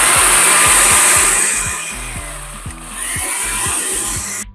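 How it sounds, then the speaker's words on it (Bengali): An electric blender grinds sweet cumin and fine cumin seeds for a Bangladeshi olive pickle spice mix, a loud steady motor whine with rattling seeds that eases in the middle, swells again and cuts off abruptly at the end. "এটা হচ্ছে মিষ্টি জিরা, চিকন জিরা ব্লেন্ড করতেছি।"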